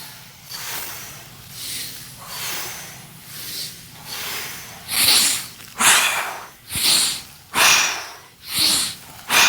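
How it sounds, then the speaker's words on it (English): Loud, rhythmic heavy breathing, each breath a long hissing rush, speeding up into rapid in-and-out puffs close to the listener. "Listen to the sound of your breathing."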